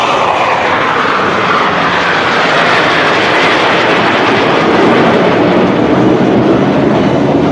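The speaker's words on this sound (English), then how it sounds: "भारत का गौरव 5 एयरक्राफ्ट की फॉर्मेशन में आपकी ओर तीव्र गति से बढ़ रहा है।" Five Tejas fighter jets of the Indian Air Force sweep past in formation at an air show rehearsal in Bhopal, a loud continuous roaring jet rumble with no gaps.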